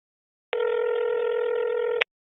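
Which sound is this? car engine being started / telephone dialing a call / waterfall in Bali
telephone dialing a call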